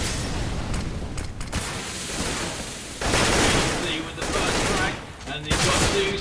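Automatic AK rifle gunfire in CS:GO during a competitive match, with repeated loud bursts and fusillades, booming impacts and bright rattling shots layered densely across the whole stretch, growing louder and thicker in the second half.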